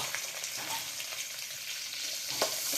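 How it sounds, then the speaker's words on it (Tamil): Pirandai stirred and sautéed with turmeric in sesame oil sizzles steadily in a pan, a close, even hiss with small scraping stir sounds throughout and no voices. "மஞ்சத்தூள் போட்டு நல்லா வதக்கணும் பிரண்டையை"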